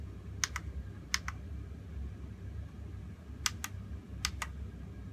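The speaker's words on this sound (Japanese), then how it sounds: "なんかあのスイッチの音がチャチーですよね" Cheap-sounding device switches pressed in quick pairs of clicks, four times over a low steady hum, fairly faint and close.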